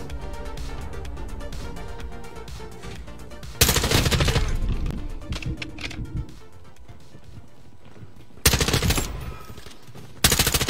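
Rapid automatic fire from an M4 assault rifle in Modern Warfare 2, loud sustained bursts with short pauses between volleys, alone with no talk.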